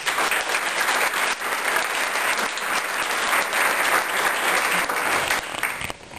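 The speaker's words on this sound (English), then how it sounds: "a round of applause for our sponsors" A banquet audience at an annual scholarship luncheon applauds the sponsors, with dense, sustained clapping filling the room for about six seconds before starting to thin out at the very end.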